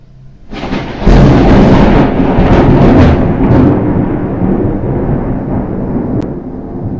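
A loud thunderclap cracks suddenly during a thunderstorm after several days of intense heat, then rumbles on in a long, slowly fading roll with rain-like hiss beneath, close and powerful, with no talking.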